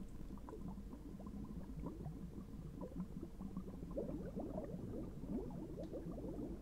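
Water in a fish tank is changed in a PC fish-keeping video game, making a soft, steady bubbling and gurgling that stays faint and continuous, with no speech.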